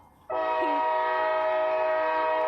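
A train horn blasts one long, steady, loud note close by, starting abruptly after a quiet moment and holding to the end.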